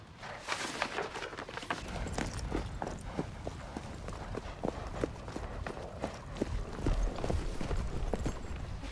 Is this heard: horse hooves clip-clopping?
yes